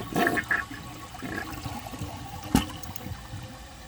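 Project Source HET high-efficiency toilet flushing, a short gurgling rush of draining water followed by trickling and tank refill noise, close and moderately loud with a sharp knock near the end.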